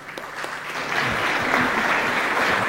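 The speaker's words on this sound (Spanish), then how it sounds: "Vamos a recibirle con fuertes y calurosos aplausos" Warm audience applause greets a guest doctor introduced at an academic lecture, a dense, even patter of clapping that builds slightly and holds steady without speech.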